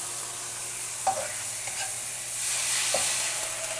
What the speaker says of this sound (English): you want to start sauteing the black beans with the garlic